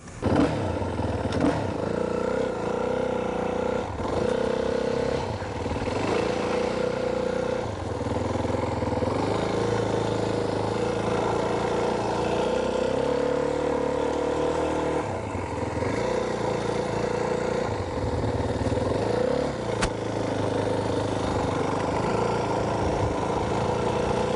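Dirt bike engine droning steadily and loudly throughout a ride, with a varying revving pitch and some clatter, as the rider steers by shifting weight on the foot pegs.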